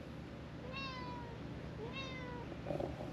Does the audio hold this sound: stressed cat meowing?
yes